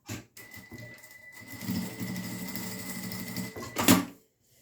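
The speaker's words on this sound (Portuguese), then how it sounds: "fazer essa costurinha de pesponto só para segurar mesmo" Sewing machine topstitching a phone wallet, a steady mechanical whir running for several seconds with a sharper burst near the end, close and fairly quiet with no talking.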